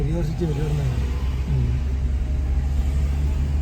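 A vehicle engine labouring up the steep Kallatti ghat road toward Ooty, a steady low rumbling drone close by, with people talking over it at the start.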